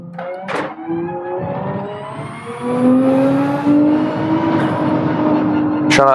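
Porsche 911 race car engine in Gran Turismo 7 at the Corkscrew, revving hard with rising and shifting tones as it climbs through gears, loud and continuous, with a voice talking over it.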